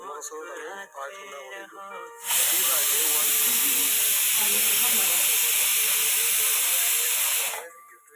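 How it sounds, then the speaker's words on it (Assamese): A pressure cooker on a stove lets out a loud, sustained steam hiss that starts abruptly, holds for about five seconds, then cuts off. A voice and some clattering come before it. "কুকাৰ বহি থৈ দিছে"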